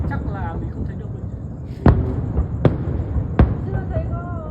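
Fireworks at a Hung Kings' Commemoration festival in 2022 go off as three sharp, distant booms spaced about a second apart, heard over a steady crowd murmur and faint voices.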